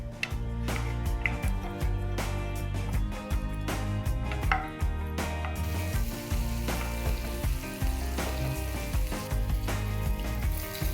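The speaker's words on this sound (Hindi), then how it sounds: "लहसुन को हमें लाइट ब्राउन होने तक भुनना है।" Steady crackling sizzle of garlic frying in hot oil, dense and continuous, with clinks and taps mixed in close by.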